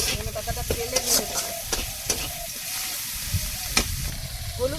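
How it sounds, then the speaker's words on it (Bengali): Turmeric sizzling in hot oil in a home kitchen while duck curry, dal and fried eggplant are made, with steady frying crackle, stirring clatter and sharp utensil clicks; faint voices murmur in the background. "কম হয়ে গেছিলো একটু হলুদ দিলাম তেলের মধ্যে"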